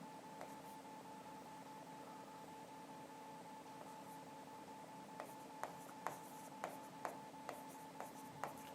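Faint chalk or marker strokes on a classroom board, with short taps and scratches clustered in quick succession toward the end over a quiet hum, no talking.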